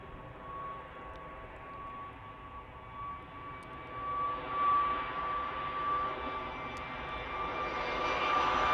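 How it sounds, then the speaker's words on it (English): A Jet2 Airbus A321 jet airliner at Manchester airport gives a steady whining jet roar that swells gradually louder, heard from a distance with no talking. "So here's Sunel, the brand new A321 for Jet2."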